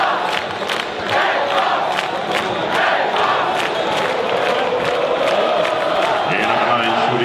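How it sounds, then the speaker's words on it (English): Large crowd of Olympiacos and Monaco basketball fans roaring and chanting in an arena, a loud continuous mass of voices with rising cheers and rhythmic shouts, sustained throughout. "the biggest Monaco crowd I've ever seen and heard"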